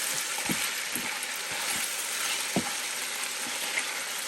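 Chicken sizzles steadily in a hot pan for a stir-fried broccoli and chicken dish, a broad continuous hiss with soft scraping knocks from stirring scattered through it.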